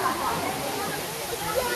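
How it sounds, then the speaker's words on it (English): Curug Kondang waterfall near Bogor, West Java, pours with a continuous broad splashing roar, steady throughout, while a voice speaks faintly over it. "I'm in a waterfall near here and it's beautiful"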